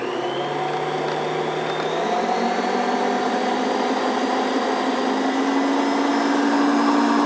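A Bosch kitchen machine with its flaking attachment rolls grain for homemade granola, giving a steady, loud motor whine with a grinding hum that rises slightly in pitch about two seconds in and holds without pause.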